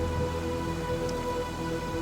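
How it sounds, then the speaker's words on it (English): Rain falls at the outskirts of Chitkul in the Himalayas as a steady, even patter of drops on surfaces, moderately loud and continuous, with no voices. "It is raining here."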